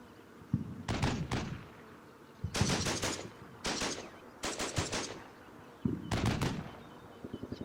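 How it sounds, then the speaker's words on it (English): Rapid bursts of prep-fire gunfire raking buildings in the World War II game Combat Mission: Battle for Normandy, five clipped automatic volleys separated by short quiet gaps. "Let's get some prep fire onto these buildings"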